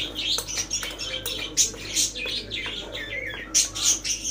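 Small birds chirp and tweet repeatedly in quick bursts, fairly close, with a faint background hum throughout.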